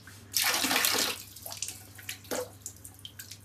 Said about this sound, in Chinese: 比如这个水龙头，你们看，现在关掉了还在滴水